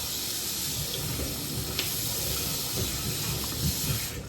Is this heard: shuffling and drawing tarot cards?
no